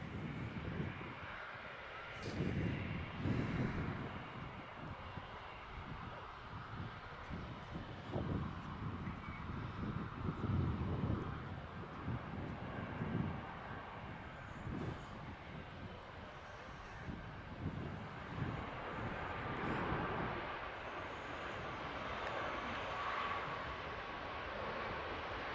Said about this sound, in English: Transat A330-300. As I mentioned before, the aircraft's heading out on the return leg to Toronto.